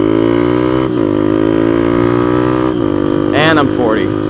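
Suzuki DR200 motorcycle accelerating hard on a test ride, a loud buzzing single-cylinder engine note climbing in pitch through the gears with brief dips at shifts, heard close from the rider's position.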